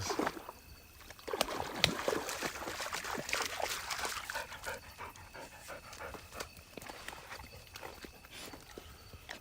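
A dog pants in quick, breathy bursts near the water at a carp fishing spot, with faint trickling and occasional footsteps and no clear talk over the steady background.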